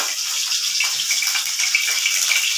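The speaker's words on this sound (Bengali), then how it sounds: "এখন আমি ফোড়ন দেব তেজপাতা, সাদা জিরে।" Bay leaves and cumin seeds are dropped into hot oil as a tempering for a papaya curry, giving a loud, continuous, crackling sizzle with no talking.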